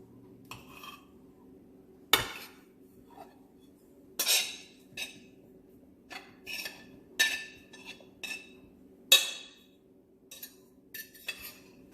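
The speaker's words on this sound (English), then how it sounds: "I'm about to cut this banana up so it won't take too long" A knife chops a banana on a hard surface, a scattered series of crisp taps and clinks with short pauses between cuts, close and fairly quiet over a faint background hum.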